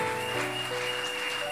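Church congregation applauding at a farewell blessing service, a dense steady wash of clapping that fills the space, with sustained musical tones held underneath.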